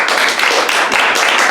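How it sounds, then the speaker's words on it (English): A crowd claps and cheers loudly for a brief moment, a dense burst of applause. "Clap for one of them."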